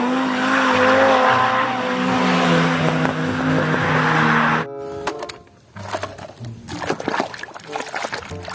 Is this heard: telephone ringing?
no